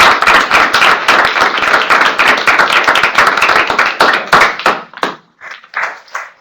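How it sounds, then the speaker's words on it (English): An audience claps loudly and close, a dense burst of hand claps that thins into a few scattered claps before dying out. "Another round of applause."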